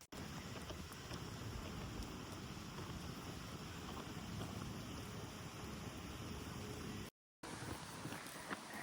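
Steady warm wind buffeting the microphone, a constant broad rush with low rumble, briefly cutting out near the end before resuming.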